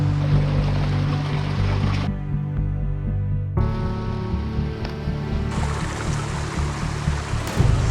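Water rushes steadily along a side creek beside a hiking trail, a continuous close, full-bodied flow with no voices, holding even throughout apart from a brief quieter dip.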